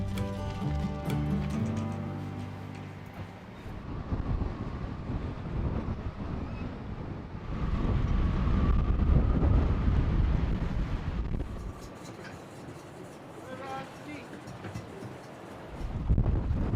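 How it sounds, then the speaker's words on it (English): Wind buffets the microphone aboard a sailboat during a storm on a summer cruise, a continuous low rumble that surges into a louder gust midway before easing back, with faint creaks and splashes around it. "The wind died a little bit when we came here, so it's not as windy as out there"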